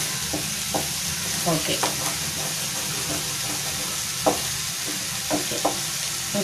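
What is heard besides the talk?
stirring egg fried rice in a pan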